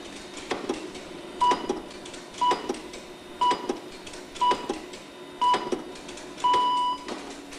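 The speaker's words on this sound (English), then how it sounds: "The standard second is the time interval between the start of each of these bleeps." Greenwich time signal on the radio: a series of short, evenly spaced electronic bleeps, one per second, with a longer final pip, clear and moderately loud against a faint background hum.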